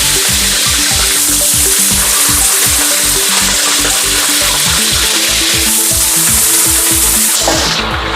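Potatoes frying in hot oil give a loud, steady sizzle with rapid crackling bubbles throughout, close by, with no talking.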